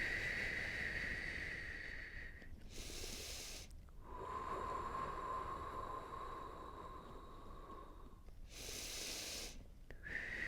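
Long, soft breaths are pushed out through pursed lips with a breathy hiss. Short pauses separate the exhales, and each one sounds close and steady.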